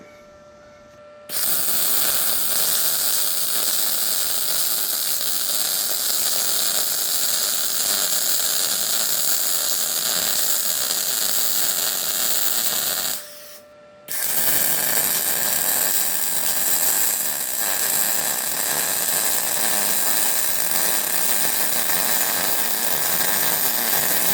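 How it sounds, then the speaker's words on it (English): Welding a bracket for a go kart reverse gearbox, a loud continuous crackling, hissing arc held close for about twelve seconds, a brief pause, then another long steady burst. "I just have to weld it up straight to the sprocket as best as I can"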